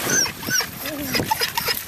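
A dog in a cartoon-style video game scene gives a few short high yips and whimpers under a voice and light background music.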